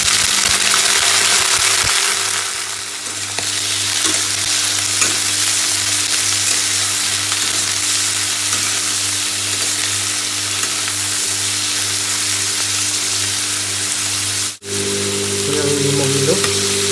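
Broiler chicken liver sizzles loudly in hot oil with whole cumin and green chillies, a steady close frying hiss that continues without a break.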